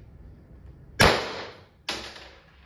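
Two sharp cracks from a Byrna LE launcher, one after the other less than a second apart, each with a bright snap and a short ringing decay, close and loud over faint background noise.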